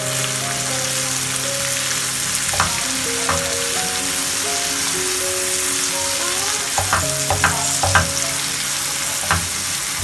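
Biryani masala frying in a pot as it is stirred, a loud continuous sizzle with intermittent spoon scrapes and clanks, plus a steady background hum, no speech.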